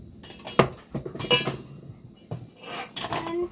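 Eggs and cornstarch are mixed in a bowl for a mung bean omelette, with several close, sharp clinks and scrapes of a utensil against the bowl in uneven bursts, no talk.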